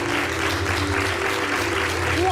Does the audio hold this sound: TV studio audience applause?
yes